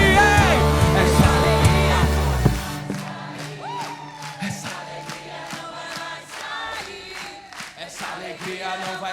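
Rhythmic audience clapping along to a joyful worship song at a church service, steady evenly spaced claps under singing and music, with a louder sung passage at the start before the beat-driven clapping dominates.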